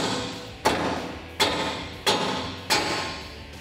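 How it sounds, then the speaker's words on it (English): A ball peen hammer raps on the front spindle of a 2016-2020 Toyota Tacoma to pop loose a tapered ball joint: four sharp, evenly spaced metallic knocks, close and clear, with a short ring after each. "grab a ball peen hammer. You can use any hammer. And we're gonna tap on our spindle from a couple of different directions"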